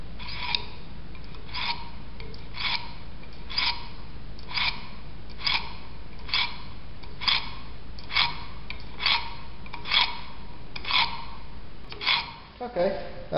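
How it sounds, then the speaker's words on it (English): Knife blade drawn across ceramic sharpening stones during a hunting-knife build, a steady series of about a dozen soft, evenly spaced rasping strokes over a quiet background hiss, fairly close. "on this side is some ceramic sharpening stones"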